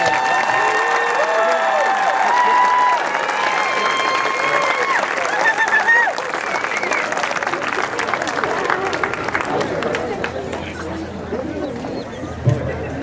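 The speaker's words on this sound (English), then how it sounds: "Let's give one big round of applause for all of our 8th graders." A crowd applauds and cheers for eighth-grade graduates at a school promotion ceremony, a sustained wash of clapping with whoops and shouts that slowly thins out.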